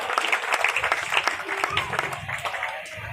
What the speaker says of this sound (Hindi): कृपया तालियों से एक बार पुनः स्वागत